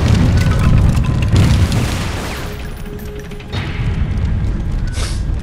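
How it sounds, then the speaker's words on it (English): A bomb going off in the Totec and Friends video game, a loud sustained rumbling boom that rolls on for a few seconds and fades, then a second swell of blast noise, with no talking. "Let's blow up some stuff and junk."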